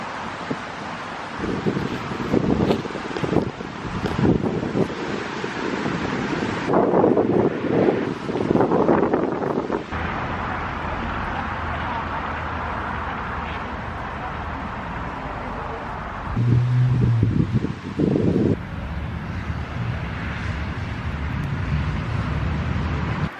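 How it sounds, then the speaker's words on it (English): Wind gusts outdoors beside a busy street, a moderate rushing noise with passing traffic rumble swelling and fading over about twenty seconds, no voices. "It is a bit windy and I am right by an active street, so it may be a little loud."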